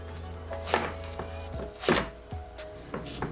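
Long eggplant cut into bite-sized pieces with a knife: a few close, soft thunks at uneven intervals against a low hum.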